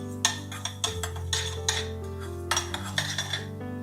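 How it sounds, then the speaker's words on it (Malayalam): Two spoonfuls of mustard seeds heated in a pan for a sweet mango pickle crackle and pop in sharp, irregular little bursts over a steady low kitchen hum. "കടുക് ഇങ്ങനെ പൊട്ടി വരുന്നുണ്ട്."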